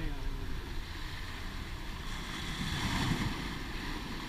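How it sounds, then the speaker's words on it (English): Rough ocean waves break along a rocky coastal path at Puerto Galera in the Philippines, a steady wash of surf mixed with wind buffeting the microphone. "that's very dangerous waves"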